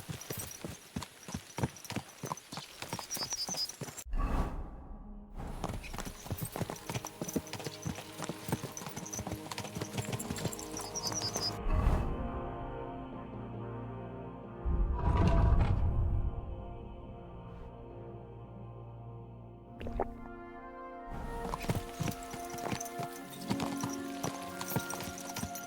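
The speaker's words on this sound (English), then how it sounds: "Let's really spur these horses on, eh?" Horse hooves clip-clop in a steady rhythm while riding in the video game Kingdom Come: Deliverance II, with game music beneath and several brief pauses where the hoofbeats drop out.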